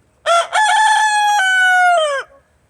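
A rooster in a backyard chicken flock gives one loud, close crow, a sharp opening note followed by a long sustained call that cuts off cleanly, with no talking over it.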